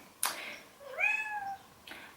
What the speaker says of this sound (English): Apologies for the meowing for the rest of this video